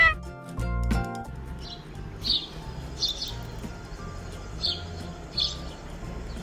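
Short, high bird chirps come in a spaced series over a steady low background hum during a shadow puppet guessing game, fairly faint and with no talking.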